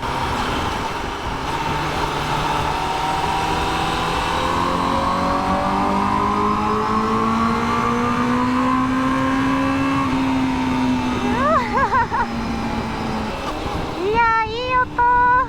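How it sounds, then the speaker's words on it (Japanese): Honda CBR1000RR-R sport motorcycle engine revving hard inside a highway tunnel, pitch climbing steadily with booming echo, then quick throttle blips near the end; a voice speaks faintly underneath. "高速のトンネル内で音をね、ちょっと試してみますよ"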